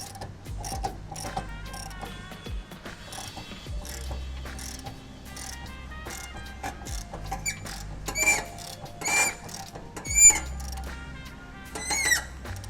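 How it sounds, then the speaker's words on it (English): A jack is worked under a 1986-2019 Suzuki Savage LS650 motorcycle to take the load off its suspension, giving irregular metallic clicks and ratcheting clacks, some sharper and louder, close by with no voices. "take a jack, slide it underneath the bike, and lift the jack up and take the load off of the suspension"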